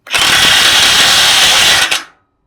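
A DongCheng DPB22C electric impact wrench drives an M24 bolt with a 36 mm socket, one loud, continuous whirring burst of under two seconds that cuts off abruptly.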